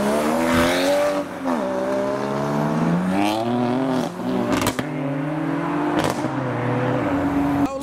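A Volkswagen Golf GTI and Polo GTI pull away from a roundabout, loud and close, their engines rising through gears in steady revving sweeps with a brief tire chirp partway through.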